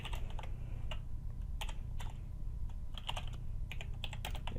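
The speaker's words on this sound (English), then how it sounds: "So I'll just type it again." Rapid bursts of clicking keys on a computer keyboard, typed in uneven clusters with short pauses, close and clear over a quiet room hum.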